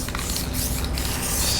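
Wax and grease remover sprays from a can onto a car body panel before priming, a loud, close, continuous pressurized hiss lasting about a second and a half, with no talk over it.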